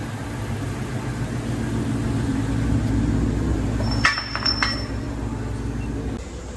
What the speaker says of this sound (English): Idling perfect.